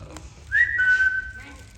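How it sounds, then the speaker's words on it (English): A single whistled note slides up and then holds steady for under a second, clear and fairly close against a quiet background. "Did you hear that? Somebody's whistling."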